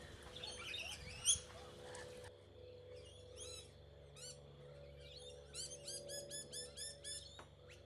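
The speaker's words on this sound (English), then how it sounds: "These are the rainbow lorikeets." Rainbow lorikeets call in a garden, giving bursts of sharp chirps and chattering tweets at close to middle distance over a low steady hum, with a louder burst of calls at the start.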